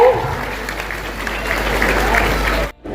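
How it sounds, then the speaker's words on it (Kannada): An audience at a Sankranti festival gathering of a North Karnataka welfare association in Yelahanka claps in a dense, steady burst of applause that stops abruptly near the end. "ಹೊಡಿರಿ ಮತ್ತ ಚಪ್ಪಾಳೆ"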